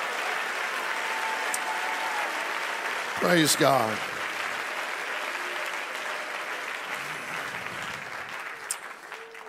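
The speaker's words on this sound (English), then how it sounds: "let's give the Lord one more hand clap of praise." A church congregation at a conference applauds, a steady wash of hand claps throughout with a brief spoken exclamation partway through, fairly distant and even in level.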